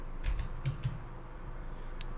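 A few keystrokes on a computer keyboard, close and soft, with clustered clicks early on and one isolated tap near the end, over a steady quiet room hum.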